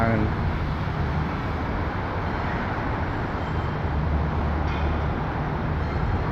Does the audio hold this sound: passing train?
yes